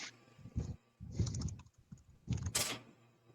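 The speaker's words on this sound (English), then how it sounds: "I can see my mic jump every time the typewriter clacks" The typewriter on a Bendix G-15 computer prints in short bursts of sharp, loud mechanical clacks separated by brief pauses, close by with no talking.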